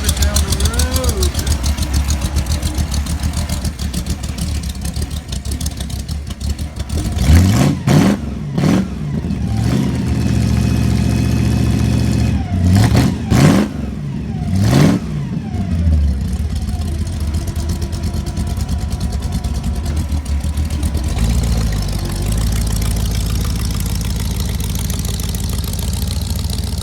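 A 1964 Ford Fairlane Thunderbolt idles loudly up close, then revs hard in several sharp bursts before pulling away, its engine note fading as it drives down the road.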